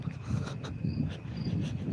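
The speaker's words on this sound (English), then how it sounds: "you walk past crickets and they stop" Crickets chirping in a video game, a faint continuous trill over a low ambient hum, with no talking.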